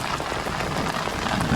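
Heavy rain pours steadily during a thunderstorm over a river in Madagascar, a dense, constant hiss of drops drumming on surfaces, loud and close with no pause.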